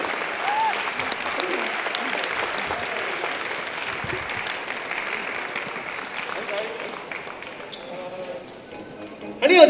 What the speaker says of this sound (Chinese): 请大家俾热烈掌声